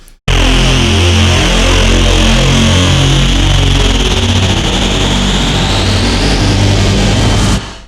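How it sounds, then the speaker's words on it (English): A loud synthesized bass note from a Soundpaint motion-effects patch, held for about seven seconds, growling and pulsing with a rapid rhythmic wobble that evolves and brightens as it sustains, then cuts off abruptly. "just a juicy, beefy bass sound that when you hold it, it just gets to that and just goes crazy"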